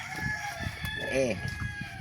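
A person's voice imitates a rooster's crow in one brief, rising-and-falling warbled call, surrounded by short bursts of casual talking and laughter.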